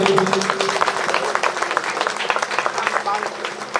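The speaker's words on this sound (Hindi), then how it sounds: "जोरदार तालियां प्लीज" A festival audience at the main-event stage keeps up thick, continuous clapping that swells and dips, with an announcer's voice speaking over the applause.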